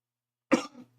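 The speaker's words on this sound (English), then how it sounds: "I'm so sorry about this cough" A single short cough, close and fairly loud, in an otherwise silent moment.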